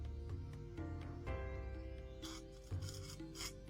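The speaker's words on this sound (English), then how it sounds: "we are going to streak it across the plate" A gritty scraping rasp of a mineral specimen streaked across a porcelain streak plate, repeated in short strokes, quiet and close, with faint tonal hum underneath.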